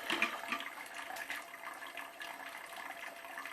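Hot water poured over a paper filter in a V60 coffee brewer to preheat it, a soft continuous trickle and splash that stays fairly faint and steady.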